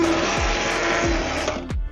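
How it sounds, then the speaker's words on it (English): An immersion blender purees a pot of tomato jam, its motor whining steadily and close, with repeated dips and surges as it is moved through the thick jam, ending on a short rise before stopping. "now we're going to puree it with the immersion blender"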